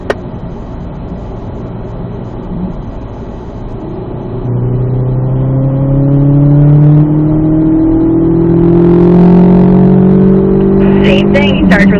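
A Corvette Z06 engine accelerates on a race track, the tone climbing through gear changes and growing louder toward the end, heard from inside the car with a voice talking over it.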